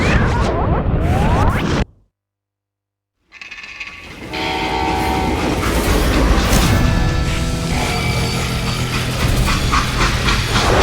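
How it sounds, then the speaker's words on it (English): Steam train in the Western game Call of Juarez: Gunslinger, with a loud whistle and rolling rail noise that cut to silence for about a second and a half, then rumble back in steadily with clanking wagons. "Now, how'd they stop this train in the first place?"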